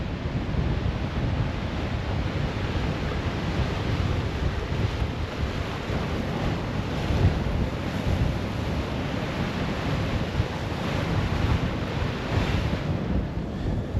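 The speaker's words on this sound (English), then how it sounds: "let's go have another look at the waves" Sea waves break and surge on a rocky stretch of the Cleveland Way coast between Robin Hood's Bay and Whitby. The roar is loud and continuous, with heavy wind buffeting the microphone, and no one speaks.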